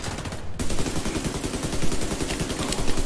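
Gunfire in the video game The Division 2, rapid sustained automatic bursts that rattle on continuously and loudly for the whole stretch, with no talking.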